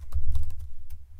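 Quick keystrokes on a computer keyboard while editing LaTeX in NeoVim, a short burst of light clicks at steady close range with a low hum beneath and no voices.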